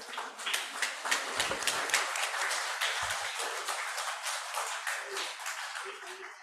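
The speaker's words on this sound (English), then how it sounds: "Please give applause for the speakers and for you all." Audience applause at a live university general lecture, a steady wash of many hands clapping that swells and holds for several seconds at moderate loudness, with no talk.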